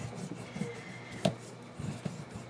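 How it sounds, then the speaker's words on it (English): A burnishing tool rubs paper down onto the back of a card for a mini accordion book, soft scratchy strokes close by with one brief tap in the middle. "I make sure it's burnished really well so it sticks to the back of the card."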